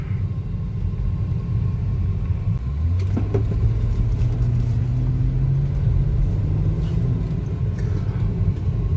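A Mercedes GLK 350 4matic driving, a steady low engine rumble with road noise, the engine note rising as it pulls away and then holding, no talk over it.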